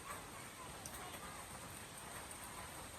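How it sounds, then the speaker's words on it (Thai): Rain falling steadily, a faint, even hiss with occasional soft patter, constant throughout with no clear voices. "ฝนตกตลอดเลยไม่ได้หยุดเลย"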